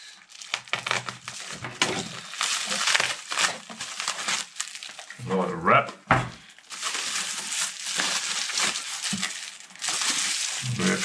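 Loud crinkling and crushing of packaging as a parcel from JLCPCB is unwrapped, continuous close rustling with a brief pause and a voice speaking over it.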